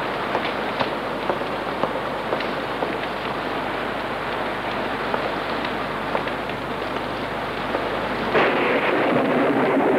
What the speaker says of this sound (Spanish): Nos espera una buena tormenta.